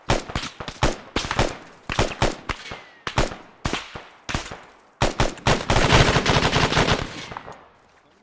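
Gunfire in ArmA 3 during a MOUT urban training operation: sharp rifle shots crack in irregular bursts, then a dense rapid machine-gun stream builds toward the end, loud and close, with no speech.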